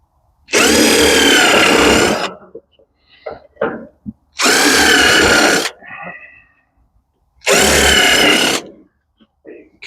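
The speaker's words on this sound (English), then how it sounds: "we'll pre-drill some holes" A power drill pre-drills holes in wood for building steps for a pop-up trailer: three loud, close whirring bursts of about a second and a half each, separated by short pauses with faint handling clatter.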